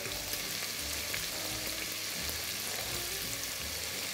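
Oil sizzling steadily in a pan as bread and other ingredients fry for a Castilian garlic soup, a dense continuous crackle with faint stirring, no voices.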